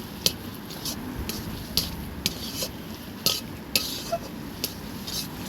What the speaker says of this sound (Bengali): এইভাবে ভাজতে থাকবো।